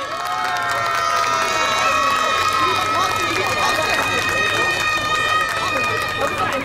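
A festival audience at a village night event cheers and applauds to welcome a singer, a loud, continuous crowd roar of clapping, whoops and shouting with a high-pitched whistle running through it.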